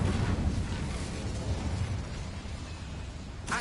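In Hogwarts Legacy, the Incendio fire spell bursts out as a loud, roaring whoosh of flame that gradually fades, followed by a sharp crackle at the end.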